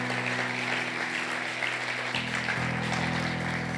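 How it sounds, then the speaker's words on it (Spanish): A church congregation applauds continuously, a dense steady wash of clapping from many hands that holds throughout, with a sustained organ or keyboard chord underneath. "Puedes darle un aplauso a Jesús."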